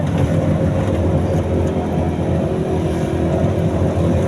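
Maruti Omni van moving fast, a loud, steady engine and road roar filling the whole stretch without a break, close and constant, with no voices.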